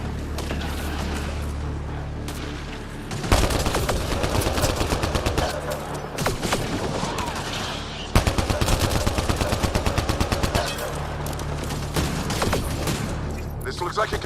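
Rapid gunfire in the Mass Effect Andromeda video game comes in two long, loud bursts of fast automatic shots with dense cracks, and scattered single shots follow over a low ambient rumble.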